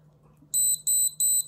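Three short bursts of loud, high-pitched electronic beeping from a KWA VM4 Ronin T6 airsoft rifle during setup, evenly spaced, over a faint low hum.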